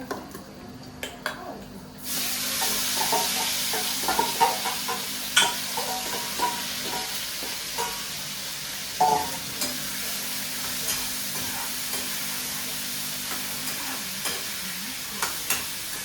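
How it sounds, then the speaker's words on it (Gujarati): Chopped tomatoes and onions sizzle steadily in a pan for a dum aloo gravy, a constant frying hiss with occasional light stirring clinks and scrapes throughout. "ગ્રેવી બનાવવા માટે ટમેટા ડુંગળી આપણે 5 મિનિટ જેટલું સાંતળી દઈશું"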